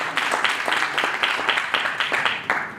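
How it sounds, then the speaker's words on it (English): A small audience at a Nigerian education event claps in distinct, rhythmic bursts, moderately loud and close, with individual hand claps standing out in a loose repeating pattern. "may I have you give a round of applause?"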